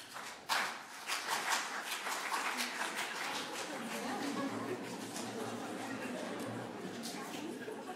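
A school choir audience at a concert claps together in a rough repeating rhythm in an odd meter, a dense spread of hand claps filling the room, with some scattered voices.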